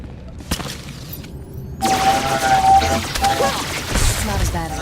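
Blaster-style gunfire from the Star Wars: The Old Republic smuggler story erupts after a quiet opening with a few soft knocks, then continues as a dense, steady barrage with a thin ringing tone over it.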